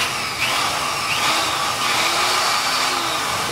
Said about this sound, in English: It's a nice running little drill.